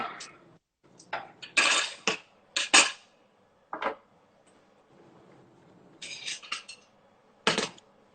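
A sauce being stirred in a pot on a chef's stove, the spoon clinking and scraping against the metal in scattered bursts, some sharp and close, with quieter gaps between strokes and no voice.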